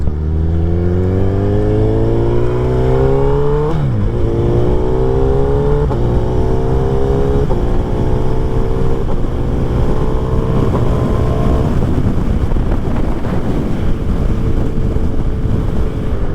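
A motorcycle accelerates up a highway on-ramp, its engine climbing in pitch through several gear shifts, loud and close over steady wind rush, then settling into a cruising drone.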